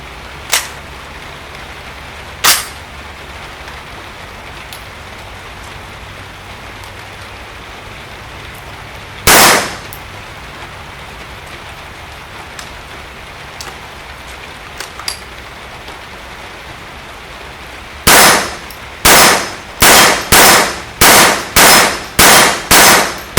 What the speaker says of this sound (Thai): เดี๋ยวมาลองยิงดูกันนะครับว่าปืน GSG5 จะยิงเป็นอย่างไรบ้างนะครับ